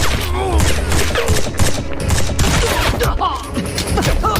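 A bursty, dense mix of gunfire, thuds and crashes from a film fight scene in which men shoot at a captain rescuing his daughter from drug dealers, loud and close, with voices mixed in.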